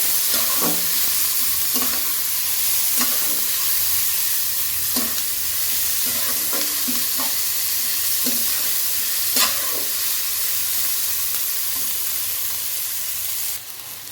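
Onions sizzle steadily in a pan for a Bengali banana-flower and prawn ghonto, with a spatula scraping and stirring at irregular intervals over a constant loud frying hiss, close by and without talk.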